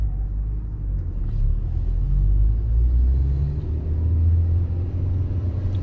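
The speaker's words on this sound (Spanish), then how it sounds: "Vemos ahí al carro de basura." Heavy low engine rumble of a garbage truck climbing a steep uphill street in Tlalpan toward Ajusco, Mexico City, steady and fairly loud throughout with slight swells in intensity, no speech.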